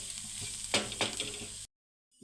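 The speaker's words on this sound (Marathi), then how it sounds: "मसाला व्यवस्थित परतून घेऊयात" Ground spices such as turmeric, red chili, garam masala and coriander powder sizzling and being stirred in a pan for kachori filling, a soft steady fry with a couple of scraping stirs before a sudden cut to silence.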